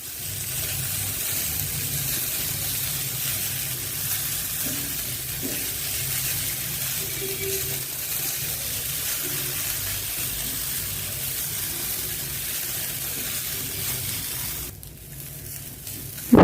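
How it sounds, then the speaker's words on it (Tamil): Desiccated coconut dry-roasting in a pan over a low flame gives a steady, quiet sizzling rustle that runs unbroken and shifts briefly near the end. "இப்போ இது நல்லா ட்ரையாக ஆகிற வரைக்கும் நம்ம இதை வந்து ரோஸ்ட் பண்ணி எடுத்துடலாம்"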